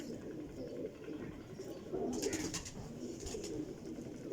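Low, soft cooing of pigeons, faint and continuous, with a brief rustle of flapping partway through.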